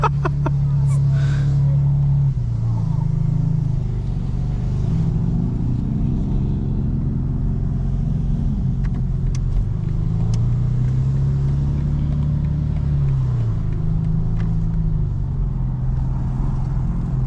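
A 2025 BMW M4 CS engine rumbles steadily under load, its pitch rising and falling through several accelerations and shifts, heard from inside the car with constant low road noise.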